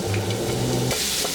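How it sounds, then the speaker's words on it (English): Garlic and ginger dropped into hot oil in a wok that was just used for frying fish over a high flame give a loud, steady, close sizzle with a brief stirring clatter. "So I'm going to just drop in the garlic in here"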